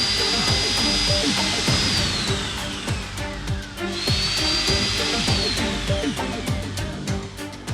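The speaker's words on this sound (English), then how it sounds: "After drilling several holes, no powdery substance is apparent" A power drill whirs loudly and continuously, its pitch rising and falling as it bores holes through a suitcase, with scraping and rattling beneath.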